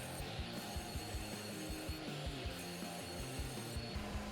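A table saw rips wood stock to final width, giving a steady, faint whirring buzz with repeated low rhythmic pulses and no talking.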